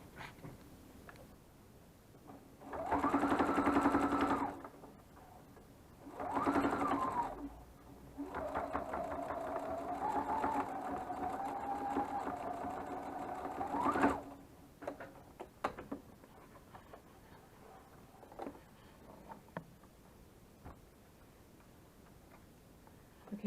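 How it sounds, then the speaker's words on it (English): A sewing machine stitching fabric face masks runs in a few bursts, a short whirring stitch, then a longer steady run, followed by quiet clicks. "So let's go to the sewing machine."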